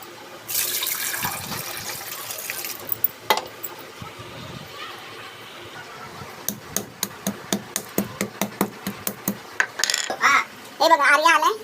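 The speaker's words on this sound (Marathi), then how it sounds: "चला तर आता आंबे धुवून घेऊया आणि पाण्यामध्ये ठेवूया." Mangoes being washed under running tap water in a Maharashtrian home kitchen, a hissing stream of water followed by a run of quick knocks and clatters, with a voice and other talk nearby.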